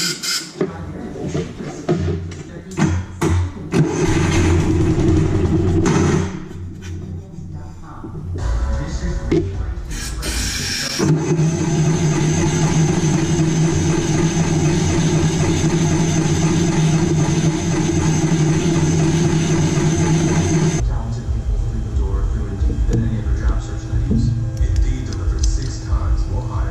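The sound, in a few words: John Deere 6X4 engine starting with starting fluid and idling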